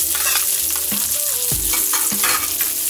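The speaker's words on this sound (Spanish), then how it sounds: "Vamos a echar un poquito de aceite de oliva en un sartén. Por aquí añadimos la cebolla." Chopped onion sizzling in olive oil in a frying pan, a steady crackling fry with stirring scrapes throughout, close and fairly loud, with a soft tonal music line underneath.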